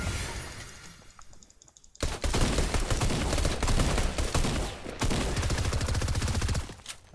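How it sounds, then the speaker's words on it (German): Gunfire in the video game Fortnite, with dense, loud bursts of rapid shots and crashing impacts that continue almost without a break after a quieter opening, with no talk over them. "Ja, wir werden gerade von zwei Seiten beschossen."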